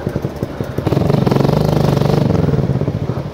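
Small motorcycle ridden along a street, its engine revving up from a putter into a steady, loud, buzzing acceleration, then easing slightly toward the end.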